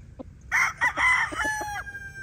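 A young gamecock stag crows once, loud and close, a short rising-and-falling call with a few brief notes before it.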